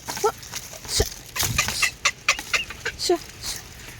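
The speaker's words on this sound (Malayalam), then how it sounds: "ഈ ഒരു കോഴി എൻ്റെ കുട്ടീനെ തിന്നാൻ സമ്മതിക്കുന്നില്ല" A hen clucks in short bursts close by, with scattered rustling and other farmyard noises between the calls.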